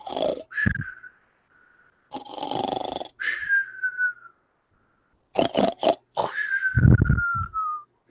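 A human voice imitates a male monkey snoring, with wheezing snorts and drawn-out whistling exhales repeated in bursts separated by short pauses, close and fairly loud.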